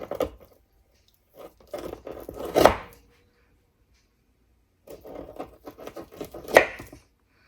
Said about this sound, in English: Cutting through all this bacon.